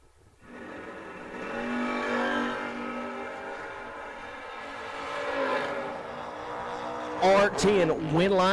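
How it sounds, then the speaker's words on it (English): Drag race cars launch down the strip at a memorial race, one a Mopar in the right lane, with a steady engine roar building over several seconds and a sharper high rev near the end, under an announcer's commentary. "Kevin Griggs, 606 for the Mopar in the right lane"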